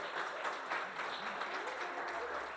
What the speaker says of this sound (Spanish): les damos un aplauso en lugar de abrazo